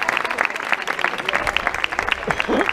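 Audience applause after a choir concert, a dense, steady wash of clapping hands filling the hall throughout, with some voices briefly audible near the end.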